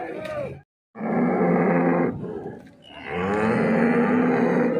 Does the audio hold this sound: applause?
no